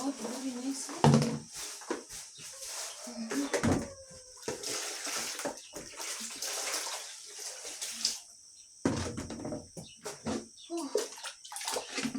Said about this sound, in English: So I'm going to rinse out some veg, wash them out very nicely.